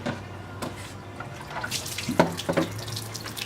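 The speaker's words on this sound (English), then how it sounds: "And then the tray, pull the blue piece out, rinse that, good. Rinse this out." Running tap water rinses a dissection tray in a lab sink, a close, continuous splashing and pouring stream with a few louder, clattering bursts as the tray is moved under the flow.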